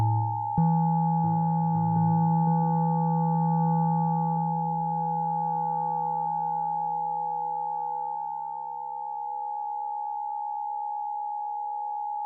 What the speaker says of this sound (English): this is all digital feedback, but it still is working pretty well